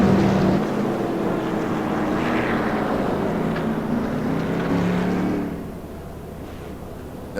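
A CRA modified race car at Thompson Speedway rumbles loudly down pit road, its engine droning steadily before dropping off and fading toward the end.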